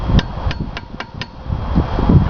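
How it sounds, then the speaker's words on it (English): Five evenly spaced metal taps from a hammer striking a chisel against a bolt on a 1976 Mercury 1150 outboard powerhead during a crankshaft removal, sharp and close, with a low workshop rumble underneath. "Just tap the bolt, breaks anything loose inside there."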